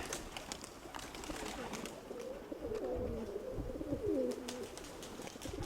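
Soft pigeon cooing, low and murmuring, repeats a few times amid faint outdoor background noise and occasional clicks.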